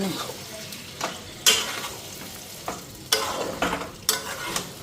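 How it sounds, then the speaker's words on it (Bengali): Potatoes and soy chunks stirred in a hot pan of spiced oil, with a steady sizzle under repeated scraping strokes of the spoon against the pan, close and clear. "আলু সয়াবিনটা দিয়ে দিই লাড়া দিয়ে"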